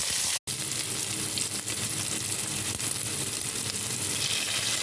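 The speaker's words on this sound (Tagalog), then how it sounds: "Ilagay ang sili. Igisa till maging soften o medyo lumambot siya at magka-brown siya." Green chili peppers sautéing in a pan of oil for stir-fried pork belly, a steady loud sizzle throughout with a brief drop-out near the start.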